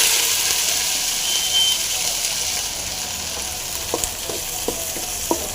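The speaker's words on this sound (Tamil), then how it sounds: "நல்லா நல்லா ஃப்ரை பண்ணிங்க இந்த முருங்கரை வந்து சூப்பர் சூப்பராக நல்லா ஃப்ரை ஆகிட்டு வருது" Drumstick (moringa) leaves frying in hot oil over a low flame, a steady close sizzle with scattered sharp crackles and pops in the second half, no talking.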